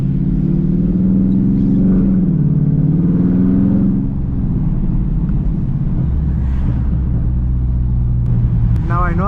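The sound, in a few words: Dodge Charger Scat Pack engine running and revving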